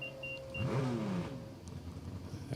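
A drag race car at New England Dragway during an NHRA meet, engine roaring past in one sustained burst with the pitch sweeping downward as it pulls away, fairly loud at mid distance.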